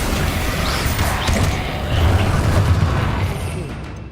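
An explosive spell blast from Hogwarts Legacy booms loudly, a close, heavy burst that swells midway over a dense rumbling backdrop of magical combat.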